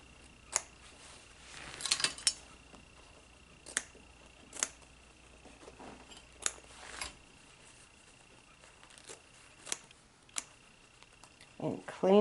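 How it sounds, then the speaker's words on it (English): Scissors snip embroidery threads on a Babylock 10-needle embroidery machine project, giving sharp, isolated quiet clicks spaced irregularly over a faint background hum. "Get my scissors in there."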